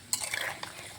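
Pumpkin fritters in frying oil are turned over: a quick scrape and clink of a utensil in the pan over a light, brief sizzle.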